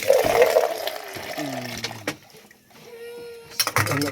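Rainwater pours and splashes off a sagging, water-filled tarp, a steady liquid gush with bursts of spilling, while a voice speaks over it.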